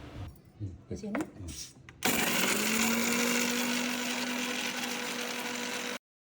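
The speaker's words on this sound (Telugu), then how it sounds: "కొబ్బరి చూడండి అలా మిక్సీ పట్టేసుకుందాం" After a brief bit of talking and clatter, a mixer grinder grinding coconut and garlic starts and runs with a loud, steady whirring drone for several seconds, then stops.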